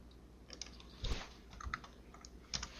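Keys tap quietly on a computer keyboard in a short, uneven burst of clicks, faint and close, with no one talking.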